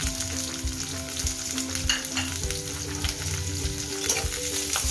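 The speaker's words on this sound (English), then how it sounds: "And cook it till they are translucent to light brown in color." Sliced onions frying in hot refined oil for a Goan prawn curry, a steady close sizzle with a continuous crackling hiss and occasional stirring, no voices.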